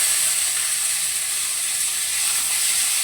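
Boiled mango, peel still on and cooked with salt, drops into a hot pan of five-spice (panch phoron) and sizzles with a loud, steady, close hiss throughout, with no talking.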